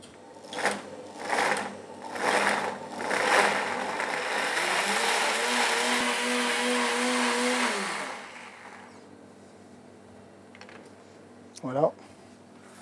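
A blender emulsifies coconut milk and cucumber cream thickened with xanthan: a few short pulsed bursts, then a sustained whirring motor with a rising hum, which cuts off and leaves near silence with a brief clatter.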